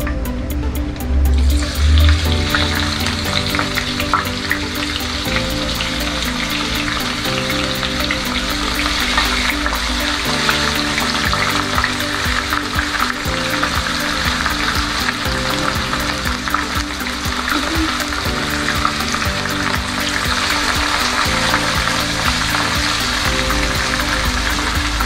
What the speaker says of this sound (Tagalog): pwede na natin ilagay yung baka at pre-prituhin natin